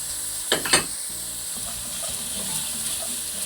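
Chicken pieces frying in a pan with salt for a creamy cheese soup, a soft steady sizzle with a few brief stirring clatters near the start, no voices.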